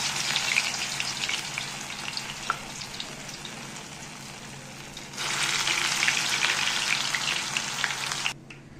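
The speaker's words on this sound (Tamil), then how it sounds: "இப்போ போண்டாவை உருட்டி போட வேண்டியது தான்." Urad dal bondas deep-fry in hot oil, a dense bubbling sizzle that swells louder midway as more batter goes in, then cuts off abruptly near the end.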